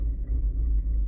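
A 2014 Chevy Equinox engine idles in gear with a slight shake, a close, steady low rumble with faint pulsing throb over about a second.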